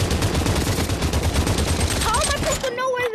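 Rapid automatic gunfire rattles in the VR shooter Population One, a dense burst of close shots that breaks off near the end into short tonal game sounds.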